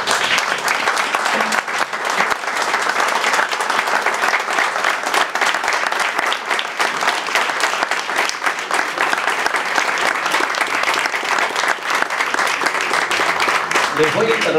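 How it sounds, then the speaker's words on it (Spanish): An audience claps continuously at a tribute event, sustained thick applause with a few voices mixed into the crowd noise, holding an even level for the whole stretch. "Les voy a interrumpir el aplauso"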